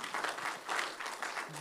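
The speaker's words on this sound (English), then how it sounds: "give him again a special round of applause this evening" Applause from the audience at a Stop And Think graduation ceremony, an evening round for a doctor and his team, heard as a soft, fairly distant wash of clapping that swells in uneven waves.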